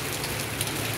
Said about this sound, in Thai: ฝนฟ้าตกฝนตกลงมา